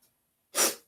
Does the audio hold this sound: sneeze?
yes